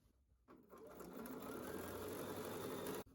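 A sewing machine chain-piecing quilt strips runs steadily up close, its motor whirring continuously for about two and a half seconds after a brief quiet start, then stopping abruptly.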